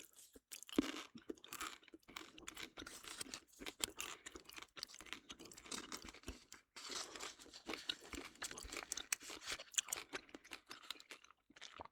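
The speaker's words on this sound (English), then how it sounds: "and continue chewing." Close, quiet gum chewing continues steadily for the whole stretch, with moist smacking and soft crackling clicks in an irregular rhythm and no talking.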